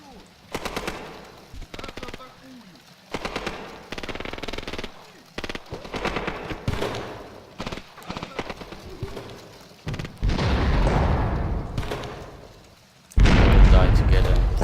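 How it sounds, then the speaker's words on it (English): Heavy artillery and gunfire in the war strategy game Graviteam Tactics: Mius Front, with rattling bursts and repeated booms that swell into a loud sustained barrage near the end, while a voice talks over parts of it. "So much artillery."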